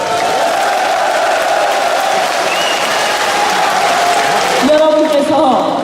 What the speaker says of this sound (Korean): 여러분께서 이렇게 환호를 해주시니까